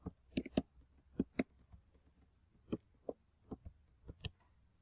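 Fingers type an email address and password on a computer keyboard, sharp separate key clicks coming in small irregular bursts with pauses between them, close and fairly quiet.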